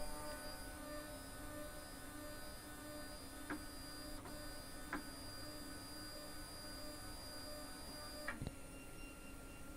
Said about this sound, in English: now it appears to be auto homing on that sensor